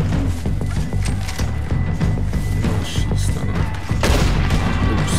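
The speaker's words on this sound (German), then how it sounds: "da kommen aber noch weitere Schüsse" Rapid bursts of gunfire and booming explosions from the video game Red Dead Redemption 2 crackle continuously in a dense, loud volley, with a voice briefly audible underneath.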